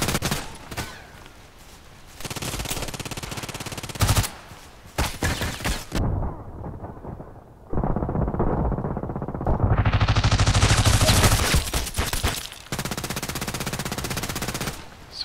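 Rapid automatic gunfire from the online shooter Contract Wars, loud bursts of repeated shots that start and stop over about fifteen seconds, with echoing tails and brief quieter gaps between bursts, no speech.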